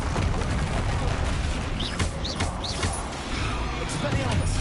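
Confringo fire spell blasts cast in Hogwarts Legacy, several sharp bursts over a constant dense backdrop of game effects and talk.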